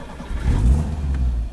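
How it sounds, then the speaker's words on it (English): A 4WD vehicle engine starts in a forest setting, catching and revving up in a brief, loud low rumble that holds steady through the short clip. "So theoretically the engine's going to start with no drama."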